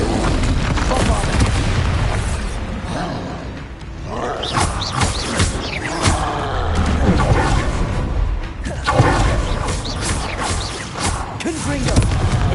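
Spell-effect explosions in a wizard-themed fantasy setting, a dense, loud run of booming blasts and roaring rumbles that swell and fade one after another, with a voice calling out over them.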